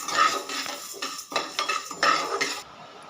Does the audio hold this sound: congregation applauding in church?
no